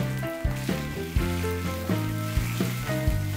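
Spring onion and chicken sautéing in a lightly oiled frying pan for curry chicken filling, a continuous close sizzle beneath a prominent melodic music bed, with a few soft knocks of stirring.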